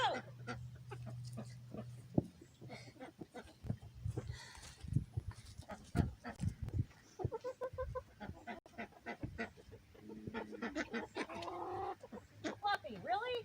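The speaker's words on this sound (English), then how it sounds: "Chickens, they're ridiculous." Backyard chickens in a homestead coop cluck and squawk in bursts across the clip, close by, mixed with people talking and other farm noise.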